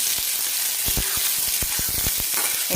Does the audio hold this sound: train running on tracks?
no